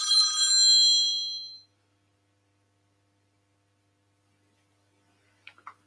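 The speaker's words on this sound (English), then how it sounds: "Excuse me, phone call." Telephone bell ringing loudly for about a second and a half alone, then silence with a couple of faint clicks near the end.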